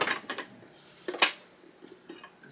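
Plastic and metal parts of a Nostalgia mini noodle cooker and skillet knocked together while being stacked: a few light clacks and clinks, close and fairly quiet, with no talking.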